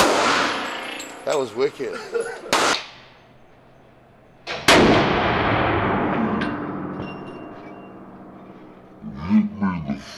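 Loud gunshots crack at a gun range, two sharp blasts each trailing into a long echoing decay, with excited voices talking before and after the shots.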